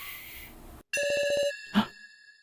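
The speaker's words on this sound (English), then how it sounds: "Big Sis Sarah, there's a message on this phone" A phone message alert from the video game Your Turn To Die: a short burst of rapid, evenly pulsed electronic beeps, then a single bright chime, clear and close after a brief silence, with no voices.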